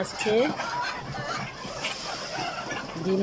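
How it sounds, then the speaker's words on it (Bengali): Egyptian Fayoumi laying hens cluck and squawk in a poultry room holding three batches of birds with roosters, several short calls close by, mixed with a bit of background voice. "এই যে আমাদের ডিমের মুরগিগুলো, এখানে 3 ব্যাচের মুরগি আছে।"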